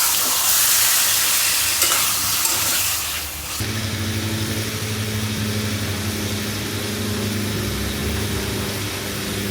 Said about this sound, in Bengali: ভাজা পেঁয়াজের মধ্যেই মাংসটা এখন কষাবো